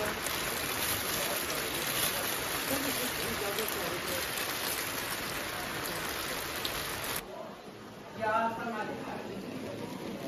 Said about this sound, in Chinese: 现在还下大雨。